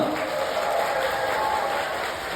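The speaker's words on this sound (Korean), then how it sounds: "다시 한번 힘찬 박수 부탁드리겠습니다" Wedding guests in a large banquet hall applaud together, a soft, even spread of clapping heard from a distance throughout, with a faint tone sustained beneath it.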